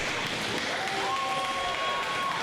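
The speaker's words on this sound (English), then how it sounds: "The crowd goes wild." A wrestling crowd roars in a dense, steady wash of cheering and shouting, with whistles rising over it, filling the whole moment.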